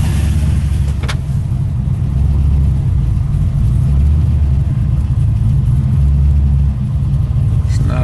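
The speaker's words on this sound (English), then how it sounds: "let me get it out of this spot a little bit." A Mazda RX7 rumbles close by as it pulls out of its parking spot on an overcast day, a loud steady engine drone with gentle swells of revving across the full length.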